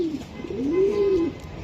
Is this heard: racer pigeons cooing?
yes